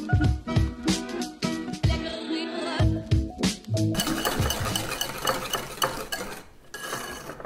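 Chocolate ghriba batter with added oil gets stirred in a bowl, rhythmic scraping and tapping strokes close up, later giving way to a denser, steady mixing noise.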